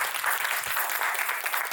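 Loud, continuous audience applause fills a mayoral summit session on public policy against racism, dense clapping welcoming a speaker with no pauses.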